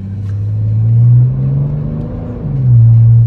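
A BMW 325d E90 diesel with Stage 1+ tune and full stainless steel exhaust hums low and steady, swelling in loudness twice as it drives along, with a deep exhaust rumble and no voices.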